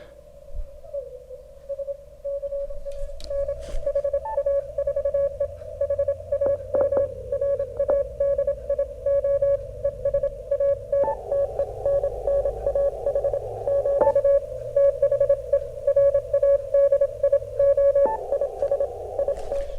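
A weak CW Morse code signal tuned in on a Yaesu FT-991 transceiver: a steady tone keyed in rapid dots and dashes over a low hiss of band noise, with brief clicks and static bursts breaking in.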